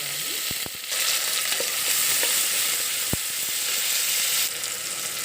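Onions fry in a pan with a continuous close sizzle that swells after the first second, broken by a few sharp clicks and taps of a utensil, and no voices.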